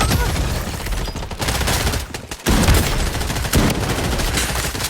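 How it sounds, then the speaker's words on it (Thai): Gunfire from a gun in a first-person shooter video game: loud, close, near-continuous rapid automatic fire with a short pause and renewed bursts, under faint talk. "ผมยิงโคตรมันเลย เห็นปะเดี๋ยวผมเข้าไปใกล้นิดนึงนะ ปืนผมก็ข้างใกล้เลย ยิงเรียบไปก่อน"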